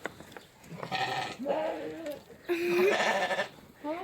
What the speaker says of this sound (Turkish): burada da koyunlar varmış